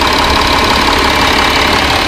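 Steady diesel idle from a 2012 Audi Q7 under the open bonnet, a continuous even rumble with a faint knocking texture, close and fairly loud, with no one talking.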